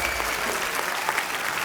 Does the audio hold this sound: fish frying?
no